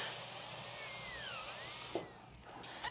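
Up close, a dental drill with a burr cuts into a tooth through enamel and dentin. Its high, thin whine dips in pitch, rises again, then cuts out near the end.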